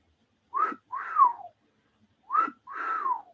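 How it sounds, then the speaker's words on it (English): Two wolf whistles, each a quick rising note followed by a longer falling glide, sound clearly and close by with a short silence between the pairs and no talking. "He was doing the what do they call that? The wolf whistle?"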